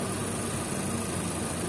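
A 2019 Chevrolet Equinox with a dual overhead cam 1.5 liter turbocharged four-cylinder idles steadily under the open hood, a constant mid-level hum with no breaks and no talk over it.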